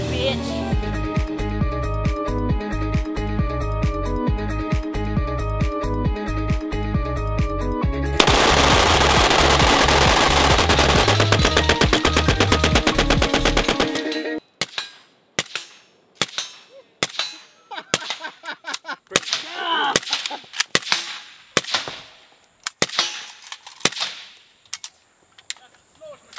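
Rapid automatic gunfire from a custom-built firearm at an outdoor shooting session, a dense sustained burst that shifts to a louder continuous roar, then breaks into spaced single and double shots.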